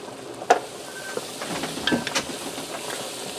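Ground beef and garlic sizzling in a pot for shepherd's pie soup, with a steady frying hiss and a few sharp clinks and scrapes as flour is sprinkled in and stirred.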